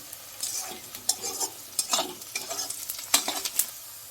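Egg tadka frying in a hot pan with garlic and chilli pieces, a continuous sizzle broken by repeated scraping stirs of a spatula, close and fairly loud, with no talking.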